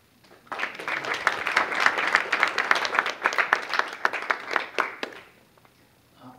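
A church congregation claps after a Thanksgiving Sunday message, brisk close applause from a modest group that swells quickly, carries on for several seconds, then tapers off to silence.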